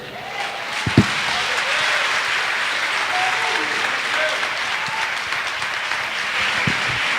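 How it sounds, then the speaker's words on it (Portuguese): A church congregation claps steadily and strongly throughout a worship service, with a few brief voices and a sharp knock rising over the sustained applause. "Pode aplaudir ao Senhor com força."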